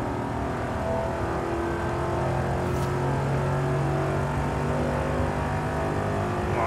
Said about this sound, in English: the one thing about Astons that I do love is the engine sound.